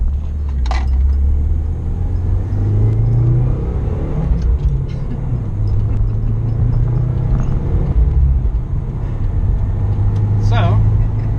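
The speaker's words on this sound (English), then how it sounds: "now that we're on the road, and I'm in 6th gear, Courtney's probably saying" A 2015 Subaru WRX sports car cruises on the road in 6th gear, its engine a steady low rumble with road noise throughout, close and fairly loud, with someone talking over it.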